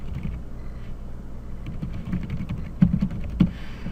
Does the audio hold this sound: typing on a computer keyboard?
yes